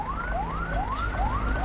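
Fire engine siren arriving at a scrap goods warehouse fire near the Labuan power plant, wailing in repeated rising sweeps about every 0.4 seconds, loud and fairly close over a low rumble of traffic.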